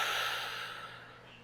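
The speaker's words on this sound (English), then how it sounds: "Then breathe in again" A slow inhaled breath during a somatic flower exercise for back pain, close and soft, fading over its length with no talk.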